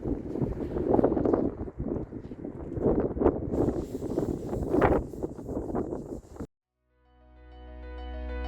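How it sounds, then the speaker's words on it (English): Gusty wind buffets the microphone on the roof of a self-built Iveco Daily prison-truck campervan, loud, rough rumbling gusts for about six seconds, then a sudden cut to a faint rising tone. "Sorry about the wind."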